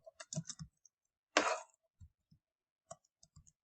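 Keystrokes on a computer keyboard while configuring an NFS server from a Linux command line: a quick cluster of separate clicks, then a single louder burst, then more sparse taps, close and clear with no talking.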